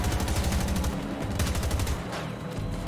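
Rapid automatic gunfire from Battlefield 2042 Season 2 rattles on almost without pause, loud and close, with a short lull before the shooting picks up again.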